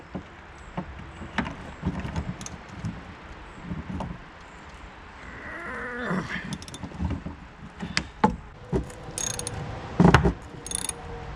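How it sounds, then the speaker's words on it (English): Jacking up part of a Jeep Wrangler during a fuel pump replacement and unfastening its straps, with a run of close mechanical clicks and ratchet-like ticks, scraping and rattling, and sharper knocks near the end. "So I'm gonna jack this up a bit and disconnect those straps."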